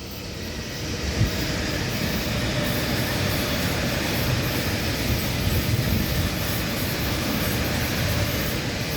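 Waratah A set electric train rolling past at Stanmore station, a steady broad rumble and hiss of wheels and motors sustained throughout at close range.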